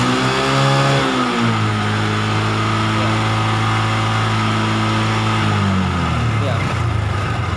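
Honda Revo motorcycle engine revved hard at full throttle, a loud sustained roar climbing in pitch, holding high, then dropping back, close to the bike.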